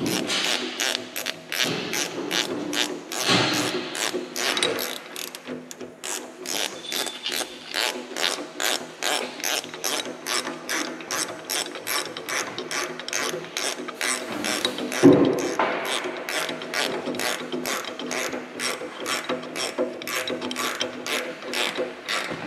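A hand ratchet snugs bolts on a new blade and C-frame for a John Deere 650H dozer, giving a long series of rapid, even clicking strokes with brief pauses, close and clear.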